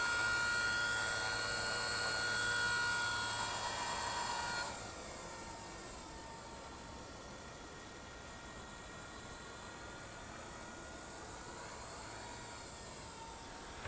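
A WLtoys V950 entry-level 3D RC helicopter hovers at about 60% throttle, its rotor and motor giving a steady high-pitched whine that drops in pitch partway through and then holds constant.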